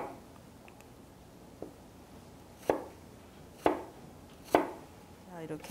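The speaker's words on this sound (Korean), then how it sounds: "이렇게 사과도 썰어서 준비를 해 놓으셨으면" A knife chops apple into 1 cm cubes on a cutting board, giving five separate crisp knocks that come closer together toward the end, close and fairly quiet with no talking.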